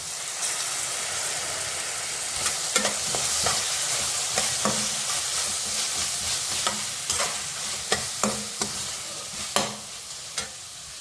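Noodles stir-fried with soy sauce in a pan give a continuous soft sizzle, broken by repeated sharp scrapes and clatters of stirring that come faster toward the end.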